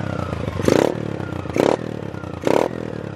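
A 2003 Honda Titan 125 ES motorcycle idling close by, its single-cylinder engine revving in three short evenly spaced blips over a clattering idle, with no talking.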